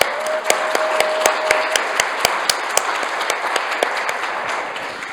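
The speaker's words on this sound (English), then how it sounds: "We are going to applaud him too." Audience applause at the closing session of the GEE2025 conference for an organizing committee member, a broad steady patter of many hands with a few sharp nearby claps standing out, fairly loud and without talk.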